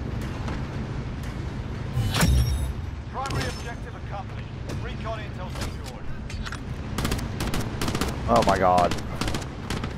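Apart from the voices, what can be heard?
gun firing in the video game Call of Duty: Modern Warfare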